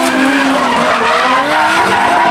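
A Toyota Corolla drift car skids across the middle of a drift course, giving a loud, continuous tire squeal over engine whine with a rising and falling pitch.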